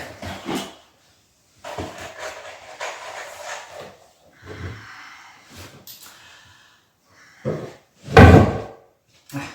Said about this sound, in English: Just knocked the camera.